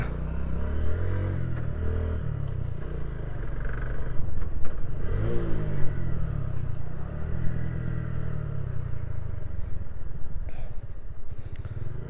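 A TVS Stryker 125 motorcycle accelerates hard during a top speed test, its engine roaring and rising in pitch through gear changes, loud and close over steady wind rush.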